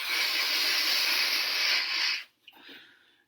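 A balloon is inflated with a long, steady rush of breathy air for about two seconds, then stops abruptly, followed by a brief faint squeak and quieter hissing air.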